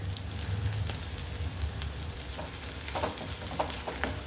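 Grated ginger and garlic sizzle in a pan of sautéed onions for a cauliflower stuffed paratha filling, a steady close crackling fry with a few sharper stirring clicks toward the end and no voices.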